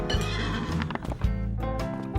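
A horse whinnies in a short, bright, harmonic burst while hooves clip-clop in quick knocks, close and clear, all within a couple of seconds in a children's television programme.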